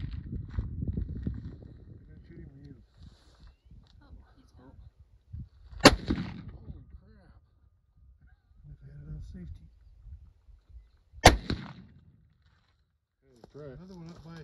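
Rifle shots fired while hunting rock chucks near a canal, two sharp loud cracks several seconds apart, with people talking quietly between them outdoors.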